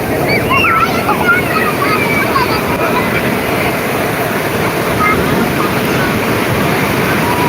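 Surf rolls onto the sand at Laboni Beach in Cox's Bazar, a loud continuous wash of breaking waves mixed with wind buffeting the microphone and faint voices in the background.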